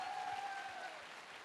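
Brief, faint burst of audience applause at a business success-story talk in Varanasi, a soft wash of clapping that fades toward the end, with a thin tone running across it.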